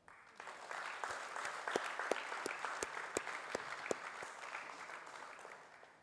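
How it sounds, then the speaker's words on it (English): Sustained audience applause at an IIT Kharagpur Homecoming 2022 award ceremony, honouring the award recipients; dense, steady clapping with sharp individual claps standing out, filling the whole stretch and tapering slightly at the end. "So a last big round of applause to all the recipients of the award."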